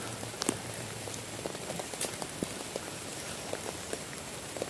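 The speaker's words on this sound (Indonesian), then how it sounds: "hujan deras nih teman-teman." Heavy rain falling at a solo campsite beside an old hut, a dense steady patter on surfaces with scattered louder drops, continuous and close, no voices.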